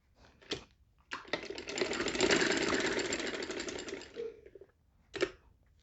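Sewing machine stitching folded fabric, short bursts of rapid mechanical clatter followed by a long steady run of stitching, close and fairly loud, then a brief final burst.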